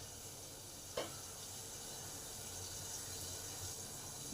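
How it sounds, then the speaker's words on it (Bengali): Bengali hilsa fish curry gravy with brinjal bubbling on high heat, a constant soft sizzling hiss with one sharp clink near the start, quiet and steady. "ঝোলটা আমার ভালোভাবে ফুটে গেছে।"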